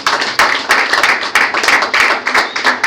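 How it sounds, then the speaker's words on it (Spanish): A church congregation claps together in a loud, steady rhythm, with sharp, even beats roughly three per second, close and continuous throughout, with no clear talking over it. "Denle un aplauso a Dios, iglesia."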